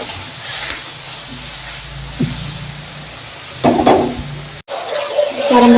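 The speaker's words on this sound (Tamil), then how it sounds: "நல்லா மிளகாத்தூள் வந்து பொரித்து எண்ணெய் பிரிஞ்சு வந்துச்சு" Chili powder sizzles and hisses steadily in hot oil for paruppu urundai kuzhambu, with a spoon occasionally stirring and scraping the pan. A louder burst of frying comes partway through, close and with no speech.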